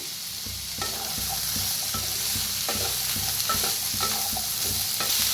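Chopped bitter gourd and green chillies are stirred in a hot pan, with repeated close scrapes of a spoon over a continuous frying sizzle.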